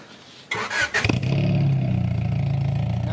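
A 1994 car fitted with a new exhaust barks into a loud revving burst, then settles into a deep, steady rumbling idle, close by.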